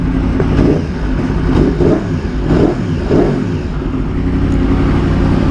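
A 2015 Yamaha YZF-R1 motorcycle engine on a track, a loud, sustained roar that swells and dips through repeated revs, close by and alone.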